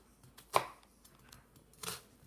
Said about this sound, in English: You're slicing and leaving everything connected in this, at the base of the onion.